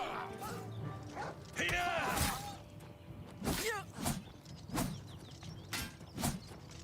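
Horse hooves clopping and a brief neigh in the Oblivion Remastered video game, a series of sharp hoof strikes with a whinny near the start, fairly faint amid game ambience and a voice.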